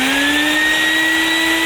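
A cheap wet/dry shop vacuum from Home Depot runs steadily with a high, rising whine while sucking water out of a mangrove aquarium tank, loud and close, with no talk.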